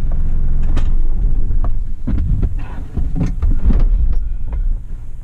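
A small truck engine labours as it drives straight up onto a pile of material, with a low, throbbing rumble and uneven surges, close by and loud, with no one talking.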